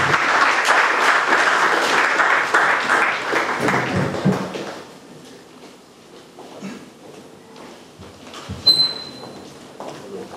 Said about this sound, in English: With a warm and resounding clap from you, our audience, I would like to invite to the podium